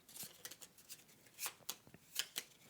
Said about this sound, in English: Shuffle those a little bit.